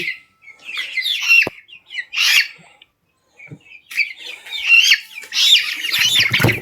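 Young Brahma chicken chicks, about 1.5 months old, cheeping and chirping in bursts at close range, with brief pauses and a rustle near the end.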